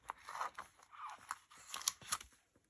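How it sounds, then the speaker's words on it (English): Scissors snip at paper or a small craft piece, a series of soft, close, irregular cuts and crinkly rustles, quiet with brief pauses between bursts. "I'm just trimming off a little bit so it slides in better"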